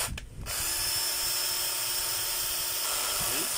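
A DeWalt DCD776 cordless drill running continuously at a low clutch setting, a steady whirring motor tone after a brief start, close and fairly loud.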